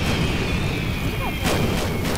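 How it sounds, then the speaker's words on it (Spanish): Fireworks during a Left 4 Dead 2 match boom and thud repeatedly at a distance, a few sharp cracks rising above constant loud game noise. "Mira esos fuegos artificiales."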